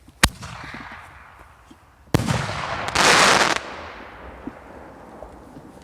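A sharp launch pop from a TXB203 triplex firework launcher with a flare, then a louder whooshing burst and a sustained crackling roar, fading into outdoor background noise.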